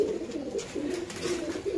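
Pigeons cooing softly at a pigeon market, a few low, rolling coos repeating close by over faint background noise for a couple of seconds.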